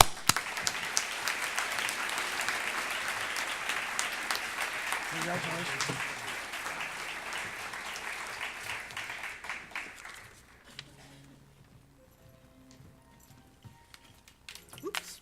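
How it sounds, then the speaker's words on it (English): Audience applause for Kurt Buttleman fills a large room, dense and sustained for about ten seconds before thinning out, with a voice offering congratulations and scattered talk as the clapping fades. "Please join in applause for Kurt Buttleman."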